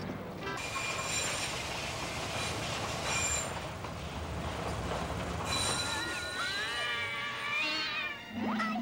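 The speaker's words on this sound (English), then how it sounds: "That was a train, I think." A train rumbles past with broadband clatter and rising, wavering wheel squeals near the end, loud and close, with no talking.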